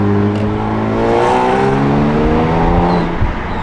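Kia Stinger with DC Sports downpipes and an MBRP catback accelerating hard nearby, its loud exhaust note climbing steadily in pitch with a slight raspy edge, then easing off near the end.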